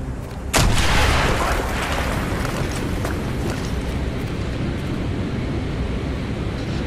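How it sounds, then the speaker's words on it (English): A loud explosive blast in a Call of Duty Black Ops battle as a charge blows a hole through a wall, hitting hard after a brief lull and then rolling into a sustained roar of rumble and debris with no talk. "Mason, blow a hole in that fucking wall"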